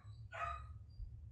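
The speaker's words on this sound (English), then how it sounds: "I apologize if you can hear the puppy in the background." A puppy lets out one brief, faint yelp or whimper in the background of a quiet indoor room, with a low hum underneath.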